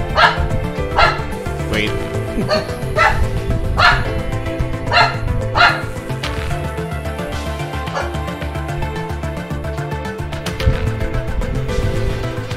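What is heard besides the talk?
dog barking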